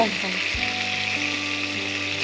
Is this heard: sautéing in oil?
yes